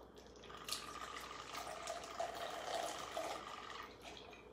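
Jameson Irish whiskey is poured into a glass, a faint steady trickling stream of liquid running for several seconds at close range in a quiet room.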